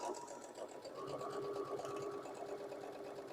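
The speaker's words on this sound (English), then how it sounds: "So let's go ahead and sew this down." A sewing machine stitches steadily around a Churn Dash quilt block, its rapid needle rhythm close and continuous throughout, with no voices.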